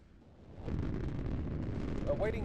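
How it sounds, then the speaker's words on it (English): A missile fires from a ship's launch tube in a naval combat video game, starting as a swelling roar at about half a second and holding as a loud, sustained rumbling rush, with a faint electronic chirp near the end. "Missile away, tube clear."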